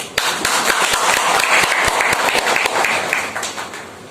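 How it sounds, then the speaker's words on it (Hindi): Loud applause at a business meeting: many hands clapping densely and steadily, nearby and full, with no voices over it. "इस प्लान के लिए जोरदार ताली।"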